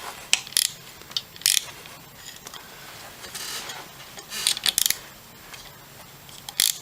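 A small wrench tightens drone propeller nuts with close, bright ratcheting clicks in short bursts. Softer mechanical fiddling and handling noise fill the gaps.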